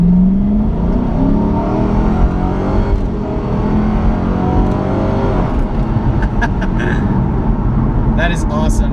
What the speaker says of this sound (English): There is nothing like just putting your foot to the ground in a muscle car.